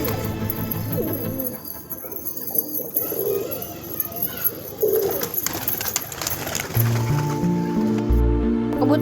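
Pigeons coo repeatedly, close by, while being fed grain, their soft throaty calls mixed with rustling and fluttering, and a louder thump and clatter near the end.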